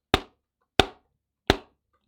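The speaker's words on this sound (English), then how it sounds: "So if I do 3 raps" Three sharp knocks on a hard surface, evenly spaced and close by, each a crisp rap with a quick decay and silence between.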